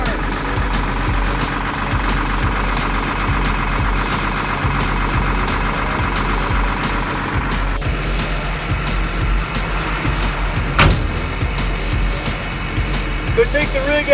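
An LMTV military truck engine idles steadily just after a cold start, a continuous close, low rumble with a brief clank partway through.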